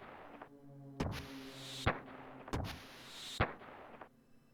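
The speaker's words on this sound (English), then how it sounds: "We looked up to see fireworks?" Fireworks bursting in the Radical Dreamers video game: three or four sharp, loud booms at roughly one-second intervals, each with a crackling tail, over a soft musical drone.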